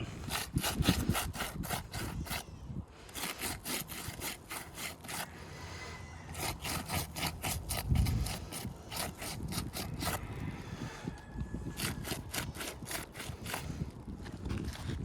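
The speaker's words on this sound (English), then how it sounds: "I'm gonna lightly touch the shingle" Repeated light scraping strokes in a steady rhythm, close and fairly quiet, as a gritty roof shingle is lightly rubbed back and forth over its rough surface.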